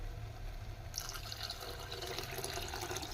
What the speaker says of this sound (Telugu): ఇంకా వాటర్ వేస్తా ఫ్రెండ్స్.